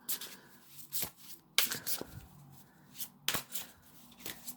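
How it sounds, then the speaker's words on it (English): Large oversized cards are shuffled in sharp rustling riffles and slaps, several bursts with brief pauses, close and crisp. "Quite hard to shuffle these huge cards."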